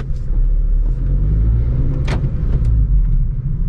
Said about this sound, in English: Still seems like there's not a lot of rev hang